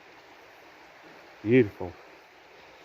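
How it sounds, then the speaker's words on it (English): A waterfall rushes as a steady, even broadband roar through a freezing wild-camping scene, holding level throughout while a voice briefly speaks over it midway. "look at that, look at this waterfall"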